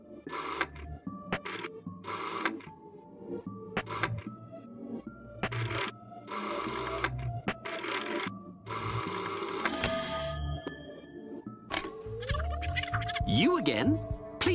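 A telephone rings repeatedly in a pixel-art video game, loud bursts of ringing alternating with short gaps, followed by electronic chimes and a rising tone near the end.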